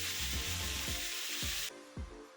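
Fish frying in a pan gives a loud, steady sizzle up close, broken by soft rhythmic thuds of a spatula, before the hiss suddenly drops to a quieter crackle.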